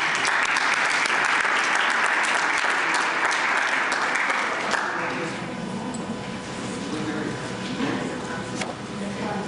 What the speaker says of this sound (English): applause and you haven't even heard anything yet